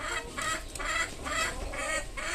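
Chickens on a small farm cluck in a steady series of calls, close and moderately loud, with no talk over them.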